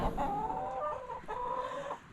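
Backyard chickens cluck softly nearby in a short, quiet run of wavering, throaty calls over faint outdoor background.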